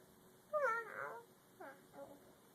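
A child mimics a cat, giving one drawn-out meow followed by two shorter, softer mews.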